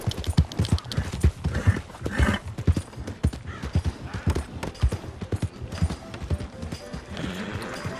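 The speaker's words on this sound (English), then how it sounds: "We'll get back on the horse here." Horse hooves clip-clop steadily while riding in the game Red Dead Redemption 2, a dense, close rhythmic pattern of hoofbeats with a brief whinny-like sound mixed in.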